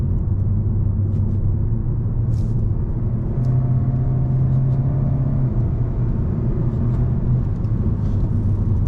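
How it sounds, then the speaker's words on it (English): A 2024 Kia K5 GT Line with an 8-speed gearbox in semi-automatic mode accelerates, heard from inside as a continuous low engine rumble with a few quick pitch steps as the gears change, with light road noise underneath. "the 8-speed gearbox really does snap those shifts off quickly"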